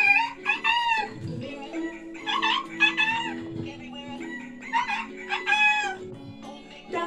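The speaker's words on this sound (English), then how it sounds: "And on that farm we got a rooster." Rooster crowing from a children's farm animal game toy, several repeated electronic cock-a-doodle-doo calls mixed with clucking and playful tune fragments, close and clear.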